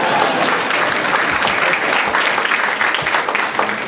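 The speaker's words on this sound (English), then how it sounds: "I thank you all for your applause." An audience at a corporate inspirational speaking event breaks into loud, sustained applause, with many hands clapping close and continuous and a faint crowd murmur beneath.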